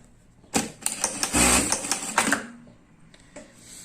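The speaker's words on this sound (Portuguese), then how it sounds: "Então vamos ver como é que é a costura constante" A Zoje A8000 industrial sewing machine running a short burst of constant-speed stitching, a rapid mechanical whirring and clatter lasting about two seconds between quieter pauses and clicks.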